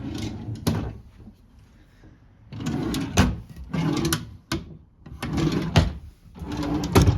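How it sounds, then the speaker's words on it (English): Desk drawers, some a bit loose, pulled out and pushed back in several times: repeated close wooden sliding rumbles, each ending in a sharp knock, with short quiet gaps between. "Nothing in the drawers. Just be careful when pulling them out, some of them are a bit loose."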